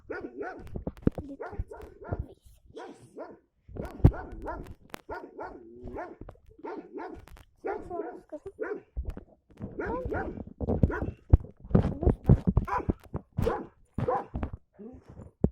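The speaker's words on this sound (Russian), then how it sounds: "Це собачка вакілюга. Він може напасти." A small dog barking repeatedly in short, sharp yips and barks with brief whimpers, irregular bursts close to the microphone, loud and alone with no talking.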